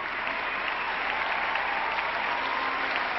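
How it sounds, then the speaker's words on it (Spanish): Applause from a pageant audience welcoming contestants onto the stage at Nuestra Belleza México 2004, a dense, steady wash of many hands clapping at even loudness throughout, with no voices standing out. "recibámoslas en este escenario con un fuerte aplauso"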